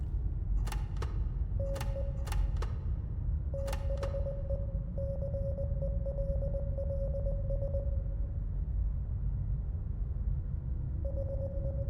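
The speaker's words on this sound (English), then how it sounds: "It's Morse code." Morse code beeps come from a TV in a game bunker, a steady pitched tone pulsing in short and long runs with sharp clicks early on, over a low hum.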